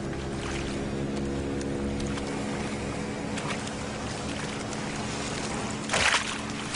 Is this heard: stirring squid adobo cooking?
no